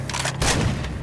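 A shotgun in Far Cry 2 fires one heavy blast that booms out over a dense, rumbling battle bed within a brief moment.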